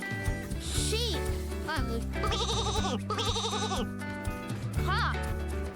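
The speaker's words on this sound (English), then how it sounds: "Sheep." Sheep bleat in a children's animal-sound nursery song, several wavering calls set over a steady, bright musical backing that runs throughout the clip.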